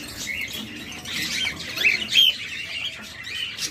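A pair of lutino cockatiels chirps in short, bright calls over a steady room hum, with a couple of sharper squawky notes standing out near the middle.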